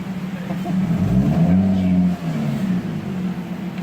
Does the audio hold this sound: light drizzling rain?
no